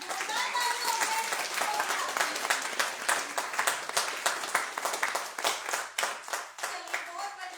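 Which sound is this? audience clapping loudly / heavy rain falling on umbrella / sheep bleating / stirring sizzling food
audience clapping loudly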